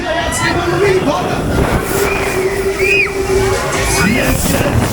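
Der Polyp, a Dreßen octopus fairground ride at Wäldchestag Frankfurt 2023, running at speed: a loud, continuous rumbling mechanical roar with whooshing, under shouting and cheering riders and an operator talking over a loudspeaker.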